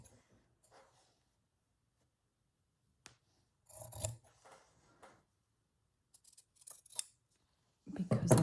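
Scissors trimming fabric on a handmade journal, a few short close snips and rustles separated by silent gaps, louder toward the end.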